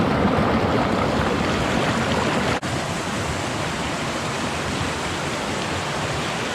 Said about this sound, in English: River is high today, let's see if we can get across.